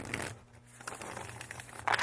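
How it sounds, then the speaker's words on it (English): A Primordial Dreams tarot deck with thin, smooth cardstock being shuffled: soft papery riffling and crinkling in close, quiet bursts, ending in a brief louder flutter of cards. "I love this cardstock. It shuffles so well."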